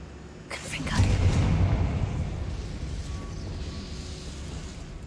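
Confringo explosive spell cast in the game Hogwarts Legacy: a single heavy booming blast that rolls and fades over a few seconds, with a voice speaking alongside.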